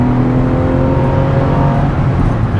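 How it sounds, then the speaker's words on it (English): A Porsche Boxster engine revving hard into a bend, a loud, sustained, close roar with rising tonal whine from inside the car, with no talk. "rev it up for the bend"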